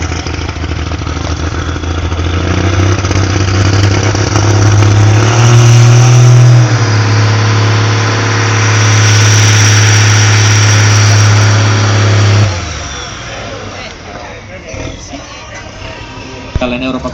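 A modified Volvo Titan pulling tractor in the 2500 kg class roars loud and close at a tractor pulling event in Nurmes, its engine droning hard for about twelve seconds before cutting off, with crowd noise and announcer speech around it.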